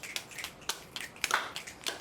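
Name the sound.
audience snapping fingers and clapping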